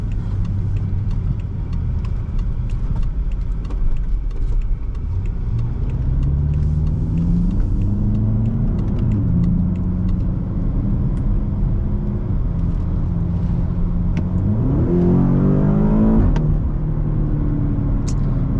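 A 2018 BMW X5M SUV drives with a steady deep engine drone, then revs up in rising sweeps near the end, loud and close with no talking.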